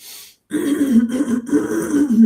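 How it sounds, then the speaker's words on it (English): A person clears their throat up close, a short rasp followed by two longer, rough, voiced throat-clearing rumbles. "Sorry, I need to clear my throat."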